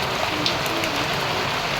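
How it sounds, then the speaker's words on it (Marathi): Steady rain patters on a surface, an even hiss with scattered drops, continuous and fairly close. "आता पावसाला सुरुवात झाली आहे"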